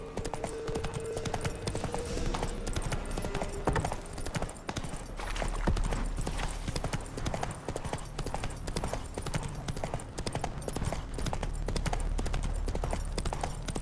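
Roach the horse galloping in The Witcher 3, rapid rhythmic hoofbeats clip-clopping steadily over a low rumble of game ambience, with a brief faint whinny early on.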